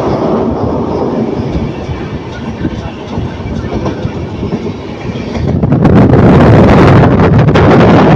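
Wind rushes steadily past an open window of a moving passenger train on the Erode to Bangalore line near Hosur, with a broad roar under faint rail clatter that grows louder and fuller in the last few seconds.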